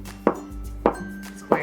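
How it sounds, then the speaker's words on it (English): A knife slicing through a block of tofu on a cutting board for seaweed tofu egg drop soup, with three crisp, evenly spaced chops landing close by against a quiet room hum. "I'm going to split the block in half and cut it in half once again"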